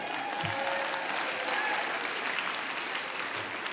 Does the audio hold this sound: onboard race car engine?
no